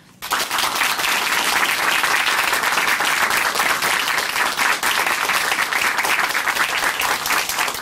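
Sustained applause from a church television audience, steady dense clapping that starts abruptly and continues loud and even throughout with no talk.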